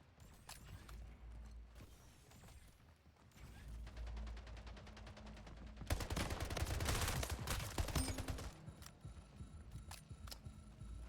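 Bursts of SMG fire in the arena shooter Splitgate, a rapid stuttering rattle building from around four seconds into dense overlapping volleys near the middle, amid game effects and no talk.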